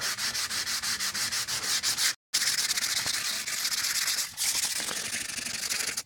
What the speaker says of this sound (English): the edge of the fretboard here I'm sanding pretty good